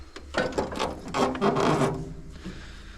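Parts of an old hay mower being taken apart by hand: a series of scraping rubs, clunks and metallic rattles in bursts, close up.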